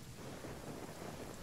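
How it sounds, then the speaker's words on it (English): Brief rain with a low rumble of thunder in a video game, a steady broadband wash of falling rain filling the short moment with no talk over it. "Don't tell me that was the shortest rain in the world."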